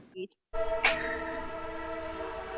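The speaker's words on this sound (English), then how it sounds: "the train decided to blow its whistle right when you were talking" A loud, sustained train horn blares with steady harmonic tones after a brief moment of quiet, holding strong for several seconds.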